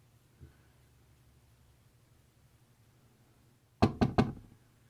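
Three quick, loud knocks on wood land close together near the end, following a long stretch of quiet room noise with one faint thump early on.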